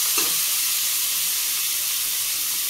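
Tomatoes sizzle steadily in a hot pan on high flame, a constant bright frying hiss with a brief stir at the start, close and alone.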